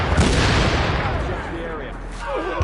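Rapid gunfire in a combat video game, dense bursts rolling under loud battlefield noise with voices calling out over it.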